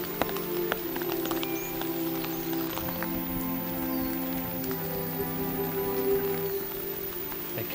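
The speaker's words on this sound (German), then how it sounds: "Wer kann, schützt sich vor dem Regen." Rain falls steadily in the Hamburg botanical garden and patters on surfaces near and far in an even, continuous wash. A faint tonal hum sits underneath, and no one speaks.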